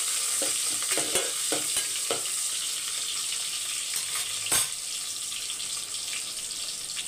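Green chillies and a lump of garlic frying in a pan, a steady bright sizzle close by with a few scraping stirs early on, no voices.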